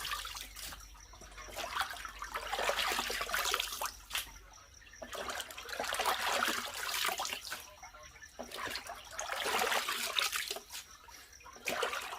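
Water swishing and pouring in repeated waves as fish is rinsed by hand for a fourth wash while making fermented fish, with trickles and drips between the surges, close and without talk.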